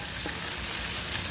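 Ground turkey with Italian and kielbasa sausage sizzles steadily in a skillet, a dense, even hiss of frying that stays close and loud throughout with no talking.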